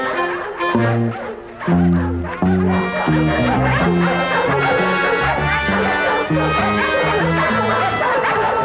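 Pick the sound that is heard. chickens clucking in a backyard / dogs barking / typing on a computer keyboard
dogs barking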